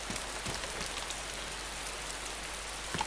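Heavy in-game rain from DayZ pours as a dense, steady hiss with scattered droplet patters, constant and fairly loud, with no voices.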